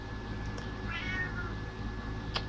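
A single cat meow, faint and drawn-out, heard over a steady background hum with a few soft clicks, no talk.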